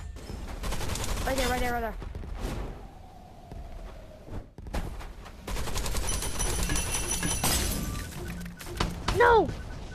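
Gunfire from the VR shooter Gun Raiders crackles in dense bursts through much of the round, mixed with game effects and excited talk from a player.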